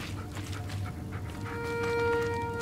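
A dog pants steadily in The Blair Witch video game, quick rhythmic breaths close by over a low ambient game drone and faint tones.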